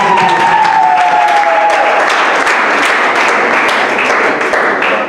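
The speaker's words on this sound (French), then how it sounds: "Applaudissements pour le porte-parole adjoint." Loud, sustained applause from a crowd at a student spokesperson inauguration ceremony, dense clapping close by with a brief tonal whistle at the start, fading slightly at the end.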